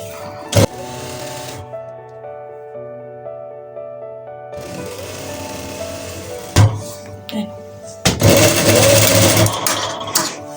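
A sewing machine stitches trouser fabric in several separate runs, each a close, loud mechanical whirring broken by pauses, with sharp clicks and clunks between the runs.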